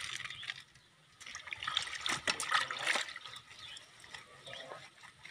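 Water trickles and splashes as it is poured into a container, a light uneven stream rising and falling at close range with quiet background sounds.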